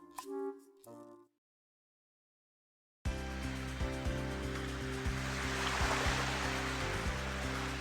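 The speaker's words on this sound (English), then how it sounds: "The sound of the waves." Surf rolls in on an ocean shore, a steady broadband wash with a low droning hum under it, starting after a brief voice and a few seconds of silence.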